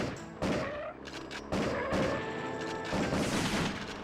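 Light gun shots ring out in the PS1 game Area 51 played with a Justifier, a series of sharp blasts and crashes at irregular intervals over game music, fairly loud and close with no talk.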